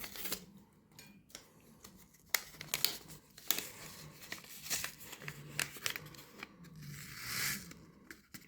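A small paper packet of basil seeds being opened up close, with crinkling, tearing and rustling in short irregular bursts and quiet gaps between, no talking.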